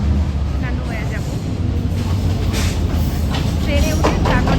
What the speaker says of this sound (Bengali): Hour train is coming.